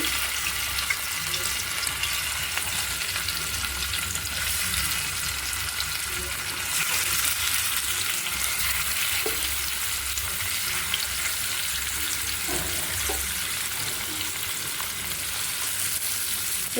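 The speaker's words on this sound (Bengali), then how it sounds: "মাছ ভাজার জন্য যে তেল দিছি এখন আমি এই যে সব মাছ দিয়ে দেবো" Fish frying in hot oil in a wok, a continuous loud crackling sizzle with occasional clinks and splatters, steady throughout with faint talk in the background.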